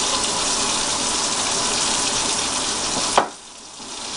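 Water gushes steadily and loudly into a cooking pot for rice, a continuous pour that stops abruptly near the end, leaving a quieter room.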